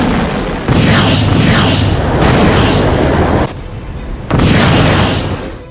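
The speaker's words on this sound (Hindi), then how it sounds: "आसमान में गरजे लड़ाकू विमान, जमीन से दनादन मिसाइलों का प्रहार," Missile strikes and explosions in a military show of force: heavy, loud booms land in overlapping bursts, one after another, with a brief lull before a final blast.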